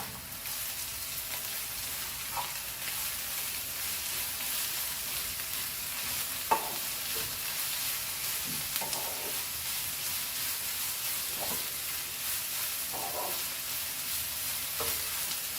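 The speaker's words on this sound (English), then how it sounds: "If you have a bigger wok, then it is very good. So fry this also very nicely." Beef fried rice frying in a wok hisses with a constant, even sizzle, broken by periodic scraping and tossing strokes of a spatula at irregular intervals, close and moderately loud, with no one talking.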